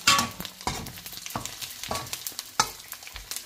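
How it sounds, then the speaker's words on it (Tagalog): Pork pieces fry in hot oil, a steady sizzle broken by sharp crackles and pops and the scrape of stirring, close and fairly loud with no voices. "maglagay na tayo ng karne sa ating mainit na mantika. Ayan. Haluin lang natin siya guys."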